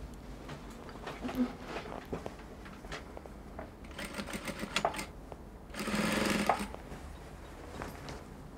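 Short bursts of a sewing machine stitching gown fabric, with scattered clicks and handling noises between runs and one longer, steady whir near the end.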